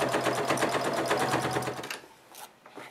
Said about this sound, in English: I want to make sure this is reinforced, and then I'm going to sew again.